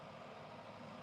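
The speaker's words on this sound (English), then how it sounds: "It's the sound of a tractor doing tractor things" A tractor engine running somewhere outside, a steady low rumbling drone heard from a distance, continuous and even with no voices.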